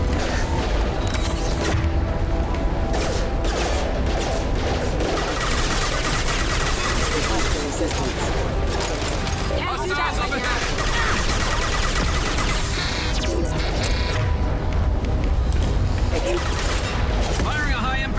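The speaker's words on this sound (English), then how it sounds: "Firing a high impact shot" Gunfire from Mass Effect 2 combat: a loud, continuous barrage of shots, booms and mechanical clatter running throughout, with someone talking over it now and then.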